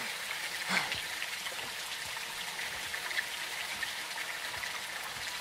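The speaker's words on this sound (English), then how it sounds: "It's raining fucking hard." Heavy rain in the video game Modern Warfare 2, a steady dense patter and wash that holds for several seconds with faint scattered drops and no talk.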